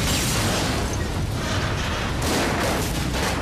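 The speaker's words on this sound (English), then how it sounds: "How did it feel when you blew up the GTO?" A GTO car blown up for a TV series scene: a loud, continuous blast of rumbling, crackling noise with no pause, heard alone.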